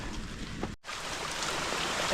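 Steady rushing of clean mountain water flowing near the Ojhar waterfall by Ovaliye village, a continuous broadband wash heard close, with a brief dropout partway through.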